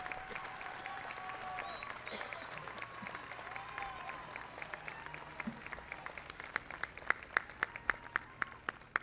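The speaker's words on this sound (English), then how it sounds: "join me in giving a round of applause to this" Graduation ceremony crowd at Santa Monica College applauds for faculty and staff, a fairly quiet, distant clapping with a few sharp individual claps standing out toward the end.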